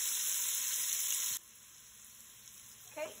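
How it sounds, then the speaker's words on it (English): Onion sizzles in hot bacon grease in a pan, a bright steady frying hiss that drops abruptly to a softer sizzle, with a light clatter near the end. "I'm going to throw an onion into that bacon oil, and we're going to saute that."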